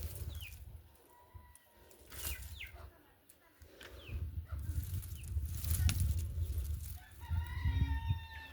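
Chickens cluck and squawk close by in a farmyard, with a rooster among them and small bird chirps on top, the calls coming in uneven bursts over a steady low rumble.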